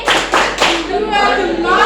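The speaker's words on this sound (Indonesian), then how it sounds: "Ulangi. Tepuk jempol." Hands clap in a quick rhythmic pattern for a thumb-clap children's game, with three sharp claps close by, followed by a voice.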